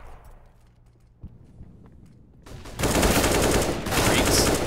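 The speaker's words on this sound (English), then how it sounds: "Couple of shots coming in." Gunfire in Counter-Strike on the Mirage map during a professional match, a few sharp isolated shots at first, then a loud, sustained burst of rapid fire that dominates the second half.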